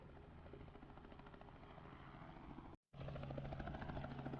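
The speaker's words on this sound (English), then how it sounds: "it's going to be loud because of that damn chopper" A helicopter's steady rotor chop thrums continuously nearby, a rapid rhythmic beating that breaks off for an instant and resumes.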